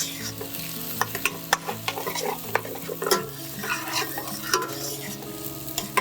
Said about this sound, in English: give that a nice stir and just let that sit